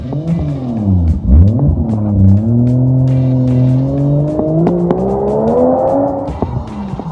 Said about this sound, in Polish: właśnie poznajesz najmocniejszy silnik wkładany do seryjnej Mazdy